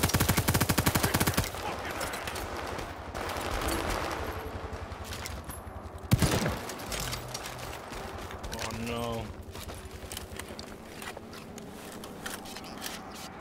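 Rapid automatic fire from the shooter World War 3, set in Moscow, rattles in bursts with a heavy impact midway, followed by lighter clicking shots and game chatter in the background.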